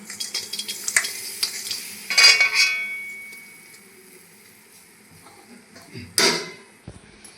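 Jaggery goes into a pan of fried papaya and gets stirred. A few scraping and clattering strokes with brief sizzling bursts come close by, separated by quieter gaps, with no talking.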